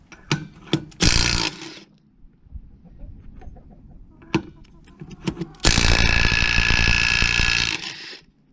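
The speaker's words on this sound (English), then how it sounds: "Hey Anthony, you gonna have to remove this wheel?" A ratchet works on a wheel of a Chevy G20 van, giving a few sharp clicks and short ratcheting bursts, then a longer loud mechanical burst near the end, heard close up in a garage setting.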